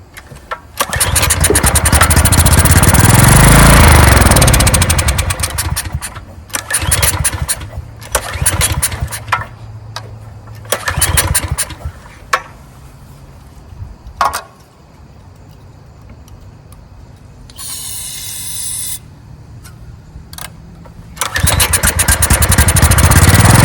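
A 14-year-old Briggs and Stratton generator engine, unused for over five years, is started with loud repeated cranking, sputters and briefly catches running roughly, with a few pulls and quieter gaps between attempts, all close by.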